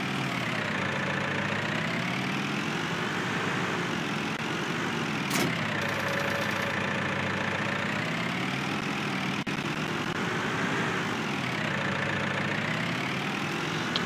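A tractor engine runs steadily while plowing, a continuous droning rumble with a slowly wavering pitch and a couple of brief sharp knocks.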